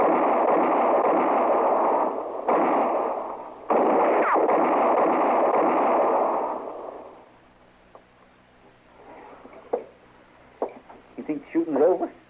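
A shootout in the Gunsmoke radio drama: loud, dense bursts of gunfire sound effects with brief breaks run for several seconds, then stop, and voices follow.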